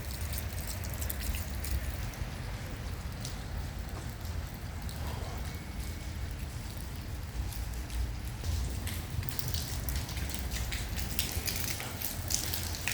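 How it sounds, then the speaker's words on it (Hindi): Rain falls steadily on a flooded parking lot in Bahrain on a cloudy day, a constant wash of patter and splashing with low rumble underneath and no voices. "पार्किंग में तो बहुत पानी खड़ा, और अभी भी बारिश लगी।"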